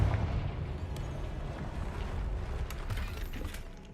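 A Confringo blasting spell cast in Hogwarts Legacy erupts with a dense, rumbling burst that crackles on for several seconds, with sharp bright snaps scattered through a continuous low roar.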